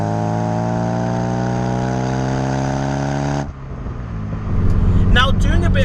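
A 1.8-litre 1990s Vauxhall Astra GSI hot hatch engine drones loudly at steady revs from inside the car, then drops off abruptly before rising again as a voice speaks over the engine.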